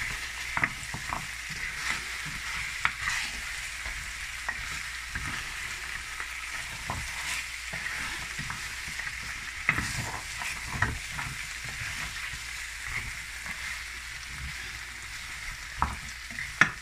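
Bell pepper with sugar fries in a pan, making a steady sizzle throughout with frequent scraping and clicking strokes as it is stirred.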